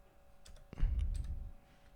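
A short burst of computer keyboard typing while entering a line of script code, a few quiet clicks then a denser cluster of keystrokes over about a second, close and soft, with no talking.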